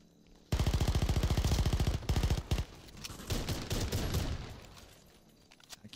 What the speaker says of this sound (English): Crazy that a pistol did that much.